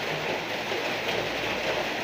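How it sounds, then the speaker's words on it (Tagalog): Heavy rain pours outside as a steady, dense hiss of broadband noise, unbroken and fairly loud, with no voices. "Lakas na naman ang ulan, guys."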